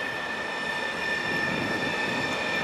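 An Arriva train rolls through the Aachen West marshalling yard with a continuous rumble and a steady high wheel squeal that runs through the whole stretch, heard from nearby.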